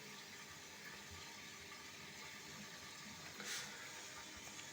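Steady, hissing rush of water spraying from a burst hose inside a toilet installation, continuous and fairly close, with a brief brighter surge partway through and no voices.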